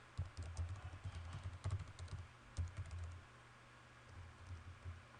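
Rapid, uneven typing on an iBook G4 laptop keyboard, soft close key clatter in quick bursts with brief pauses, growing lighter toward the end.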